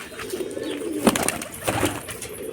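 Pigeons at a pigeon show give soft, low cooing calls amid a faint murmur of background noise.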